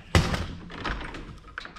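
A makeshift door is shut with one sharp, close thump, followed by a little quieter shuffling and a faint knock near the end.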